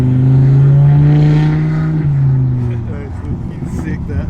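A VW Golf Mk6 R fitted with an Audi RS3 engine making 520 bhp pulls away with a loud, steady engine drone close by. The drone drops in pitch around the midpoint, then settles into a rougher, lower rumble.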